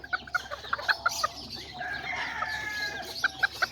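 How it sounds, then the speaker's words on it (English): A young rooster and a young hen cluck in short, repeated bursts close by, with brief higher calls scattered through and a steadier chatter in the middle. "I had put this little rooster and this little chicken in here."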